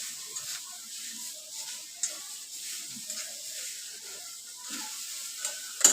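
Jaggery being stirred into a roasted mixture in a pan for ukadiche modak filling, a soft continuous sizzle with faint scraping stirs and a few light clicks, quiet and without talk.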